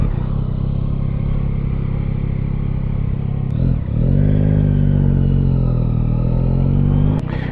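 A 2022 Yamaha XSR 900 motorcycle being ridden, its engine a steady, loud drone heard up close, briefly dipping before rising again in pitch as it accelerates.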